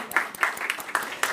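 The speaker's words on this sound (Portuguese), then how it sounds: "Uma salva de palmas" Light applause from a small audience after a round-table panel at a business and academic summit, a few scattered distinct claps at moderate distance with faint background murmur.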